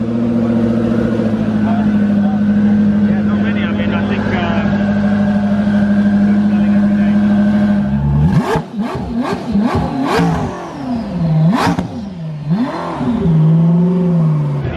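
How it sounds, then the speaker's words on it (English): A Koenigsegg CC850 hypercar engine idles with a steady drone, then snaps through a series of sharp, loud revs that rise and fall, close by and filling the air. "I'm probably one of the first people to hear that car rev."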